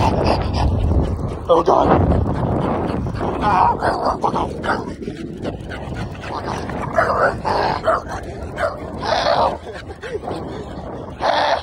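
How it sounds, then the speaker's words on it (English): An angry dog barks and growls at an e-scooter rider outdoors, loud, close and rough, in repeated bursts mixed with grunts while a person exclaims in alarm. "I almost got jumped by a dog"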